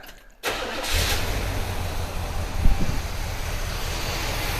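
A 1972 Buick GS Stage 1 engine cranks after a brief silence, catches and settles into a loud, rumbling idle close by, with a small revving bump midway.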